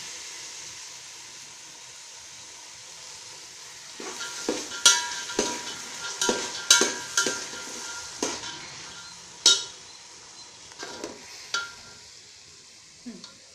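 Mustard seeds and spices sizzle and crackle in hot oil for a lentil-soup tempering, with a series of sharp pops and stirring clinks against the pan.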